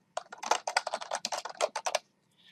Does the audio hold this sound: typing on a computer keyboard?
yes